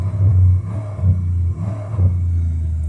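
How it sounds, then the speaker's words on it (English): A 1994 Cadillac Sedan DeVille engine with an exhaust leak idles loudly with a deep, rough rumble that swells in a few uneven surges, as if the throttle is blipped. "this car is kind of loud, only because I'm assuming it's an exhaust leak."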